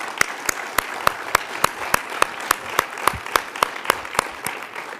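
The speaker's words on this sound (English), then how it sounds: "Perhaps you could join me in just another round of applause for all 4 of our ambassadors." Audience applause at an ambassador awards event, honouring four ambassadors: a steady wash of clapping from a room full of people with sharp individual claps standing out, moderately loud and continuous throughout with no one speaking.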